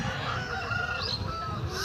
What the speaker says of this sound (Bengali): দুটো মুরগি ঝটপট করে লড়াই করছে নিজেদের মধ্যে।